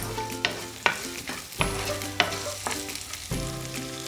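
Boiled potatoes and coarsely ground dry-roasted peanuts being stirred in a sizzling pan for sabudana khichdi, with steady frying hiss broken by repeated sharp spoon scrapes and clacks at an uneven rhythm, close and fairly loud with no talking.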